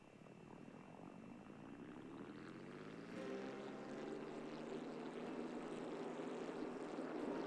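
A propeller aircraft engine spins up in a flight video game, a low steady drone that rises in pitch and builds louder partway through, then holds as a continuous hum.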